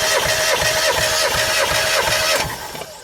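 A Mazda MX-5 engine cranks over on the starter during a compression test on cylinder 1, with a steady rhythmic chug of about eight even compression strokes, loud and close, before it winds down.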